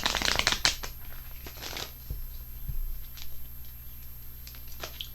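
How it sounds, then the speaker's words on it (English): Tarot cards being shuffled and pulled, a run of brisk riffling and flicking bursts up front, then softer scattered card slides and taps close by, with no talk. "I'm going to pull cards on this Page of Wands."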